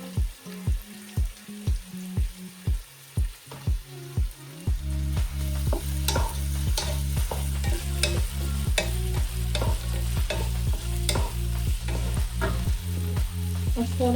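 Onions fry in a pan. Several seconds of rhythmic thumping give way to a loud, continuous sizzle, and regular stirring strokes scrape through it.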